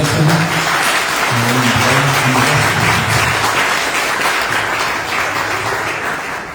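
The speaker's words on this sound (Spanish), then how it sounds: "un aplauso para la casa." Sustained applause from an audience in a temple hall, a dense, steady wash of clapping that stays loud throughout and tapers slightly at the end.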